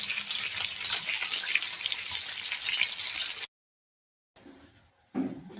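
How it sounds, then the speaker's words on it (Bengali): Fish pieces fry one at a time in hot oil in a pan for a Bengali fish curry, giving a steady bright sizzle for a few seconds before cutting out. A short, louder burst of spitting oil follows. "এখানে মাছগুলো আমি ভেজে নেবো এক এক করে।"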